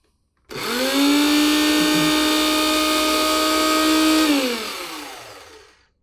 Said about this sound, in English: now we're going to whisk this all up just for a second